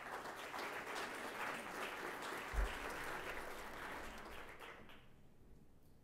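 A conference audience applauds after a space startup pitch, a steady wash of many hands clapping that fades out toward the end, moderately distant.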